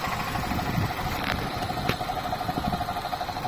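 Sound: Opel Astra J A14NET car engine idling

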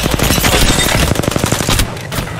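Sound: gunfire in Apex Legends video game

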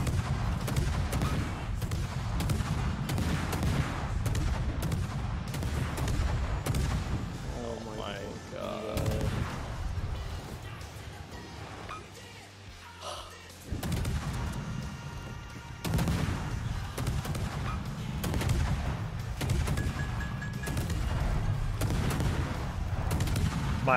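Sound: ship guns firing in World of Warships video game

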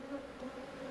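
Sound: honey bees buzzing around an opened hive

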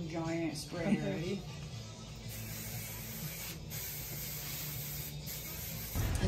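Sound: hairspray being sprayed

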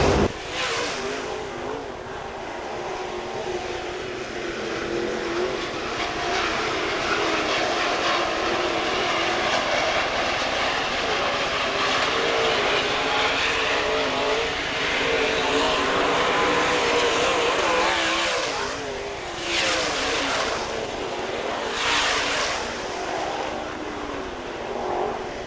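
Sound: IMCA Modified race cars racing in a heat

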